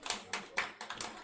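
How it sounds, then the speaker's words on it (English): A handful of sharp, separate claps from a leadership conference audience in honour of a government minister, about five bursts in quick succession, close and fairly faint. "Please, another round of applause for the Honorable Minister."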